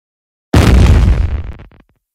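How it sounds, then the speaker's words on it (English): A cartoon explosion sound effect as a school is blown up in an animated show: one loud, sudden blast with a broad rumbling roar that decays over about a second, heard alone. "The school is exploded."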